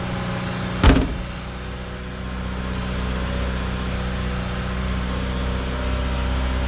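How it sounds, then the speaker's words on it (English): A 1987 Honda CRX DX engine idles steadily just after start-up, a low, even hum with a brief click near the beginning and no voices. "now it's just a matter of adjusting the choke to make sure that I get it down to a nice idle speed"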